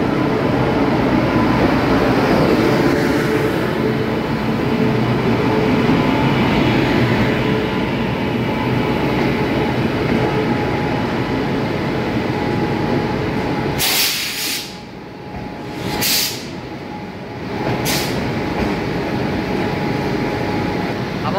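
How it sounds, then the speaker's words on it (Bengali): A passenger train pulls into an Indian railway station in Gujarat, its long rumbling roll and hiss holding steady, then broken near the end by a few sharp bursts. "আমাদের ট্রেন চলে এসেছে"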